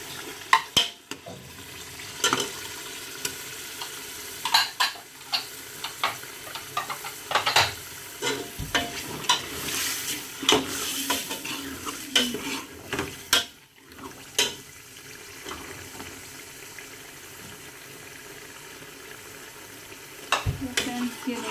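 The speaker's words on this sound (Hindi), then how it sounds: "इसको अच्छी तरह भून लें। चिकन को भी डाल के" Chicken frying in a pot for murgh daal, sizzling steadily while a spoon scrapes and clatters against the metal in irregular bursts, close, with brief quieter gaps and light talk.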